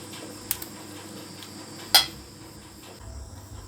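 A kadai wok set down on a home kitchen stove while cooking pui leaves, a sharp metallic clank in the middle, preceded by a faint tap, in a quiet room.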